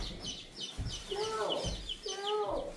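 Young chicks and chickens kept under a heat lamp cluck and peep in short, bright calls that come in small bursts, close by, with a few soft bumps and faint voices in the background.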